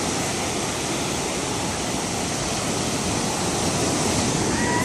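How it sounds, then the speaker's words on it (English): Ocean waves roll steadily onto the sand at Venice Beach, California, a continuous loud surf wash with no voices. "so we'll see the ocean."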